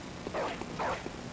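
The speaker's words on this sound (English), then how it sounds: "I hear one barking still. Oh, he's over there. He's barking at the lady." Two short, muffled dog barks a moment apart in the video game Bloodborne, fairly faint against a steady background hum.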